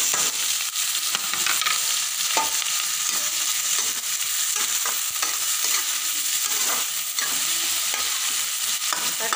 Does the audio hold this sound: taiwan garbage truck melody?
no